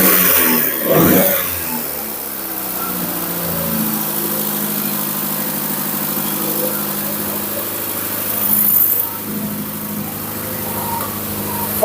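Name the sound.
junkyard Porsche engine running after install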